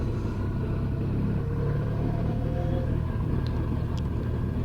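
A Honda VFR 1200X DCT motorcycle trundles along a small hill road in Perthshire, giving a steady, low engine rumble with wind noise and no talking.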